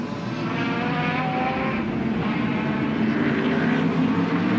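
A Chevrolet Monza sports sedan's racing engine winds up heading downhill toward a left-hand corner at Amaroo circuit in 1987, a loud, steady, sustained drone heard alone throughout.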